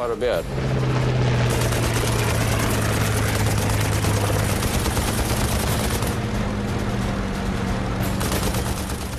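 Rapid bursts of machine-gun fire crackle over a loud, droning aircraft engine, continuous and intense throughout, with a low tone under the clatter.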